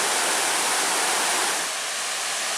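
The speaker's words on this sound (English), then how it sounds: "I believe this is called Bathtub Falls" Bathtub Falls on the Big Carp River Trail in Michigan's Porcupine Mountains roars as a steady, dense rush of falling water, constant and fairly loud with no voices.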